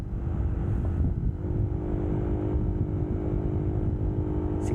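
Steady motorcycle engine drone at cruising speed while following riders in a New Year road cycling race in Catanauan, a continuous low hum with wind noise and no clear revving.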